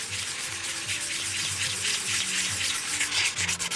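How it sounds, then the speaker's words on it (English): Close, rhythmic rasping of sandpaper worked back and forth over a hard, post-cured EPON epoxy surface, repeated scrubbing strokes in a continuous run with no voices. "I just want to grind and get that surface good, a good tooth."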